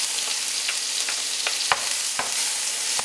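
Two large onions frying in hot oil, a dense bright sizzle filling the clip, with soft clicks and taps of stirring scattered through it.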